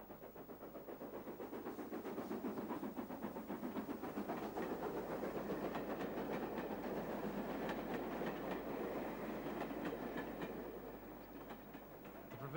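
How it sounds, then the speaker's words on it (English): A down train hurries through Henstridge on a British Southern Region line, on an uphill gradient from Stalbridge. Rolling noise and rhythmic clickety-clack build as it nears, hold steady while it passes, then fade slightly. "Down trains hurried through Henstridge to clear the section."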